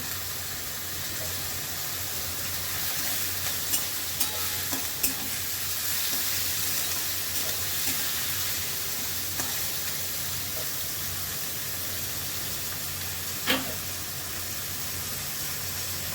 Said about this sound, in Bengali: এই থোড় ভাজাটা আমি পেঁয়াজ দিয়ে করছি